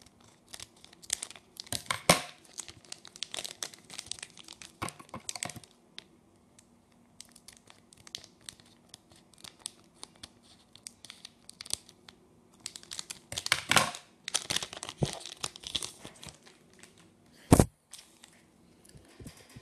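Someone opens the Jump 50th anniversary card box: bursts of crinkling and tearing packaging, close and irregular, broken by quiet pauses and one sharp snap near the end.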